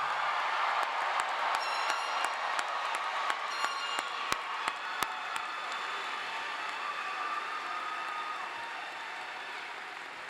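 A large crowd at a university commencement applauds the new graduates, a broad sustained roar of clapping with a few sharp louder claps standing out early, slowly thinning toward the end.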